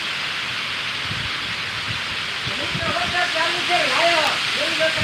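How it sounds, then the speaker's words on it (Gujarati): Steady monsoon rain hisses loudly and continuously over a village, with strong wind and a person talking over the downpour. "વરસાદ ચાલુ છે"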